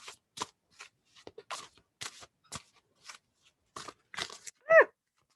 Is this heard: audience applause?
no